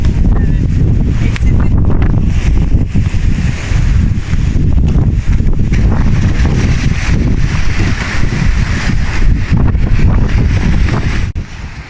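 Strong stormy wind on a secluded cove of the Kapıdağ Peninsula, Turkey, buffets the microphone in continuous heavy gusts, a loud roaring rush with no break.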